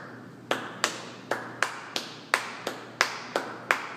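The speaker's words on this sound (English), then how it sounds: "let's start clapping, or I'll start clapping" During a music lesson, a single person claps hands about ten times in a steady, metronome-like rhythm, each clap crisp and close with a short decay in a quiet room.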